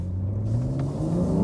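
A BMW M3 G80 with rear-wheel drive revs while drifting around a corner, its engine note climbing steadily with a rising whine and rumble, close and prominent with no talk.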